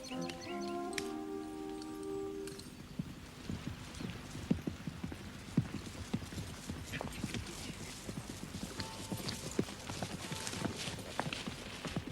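Horse hooves clip-clop steadily on the ground, close and continuous, with faint birds in the background and a short exchange of speech at the start.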